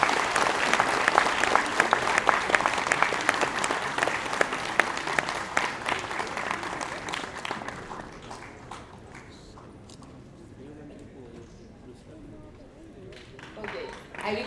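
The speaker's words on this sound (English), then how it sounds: "I request everyone to give a huge round of applause for them" Enthusiastic crowd applause at a closing ceremony as participants receive certificates, loud and dense at first, then thinning into scattered claps and murmuring voices that fade to low room noise with a faint rise at the end.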